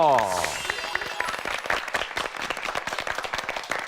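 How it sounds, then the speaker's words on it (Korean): An audience of university student judges breaks into steady, sustained applause at a high school debate competition, with many hands clapping at once in a hall. "대학생 방청 심사단 여러분을 박수로 환영하겠습니다"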